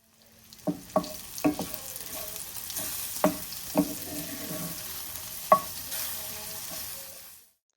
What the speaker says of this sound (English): we're going to go ahead and saute these veggies until they have cooked down nicely